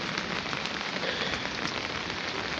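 Heavy rain pours steadily in a flooded garden, a dense, continuous hiss of drops hitting water and surfaces, loud and close with no pauses.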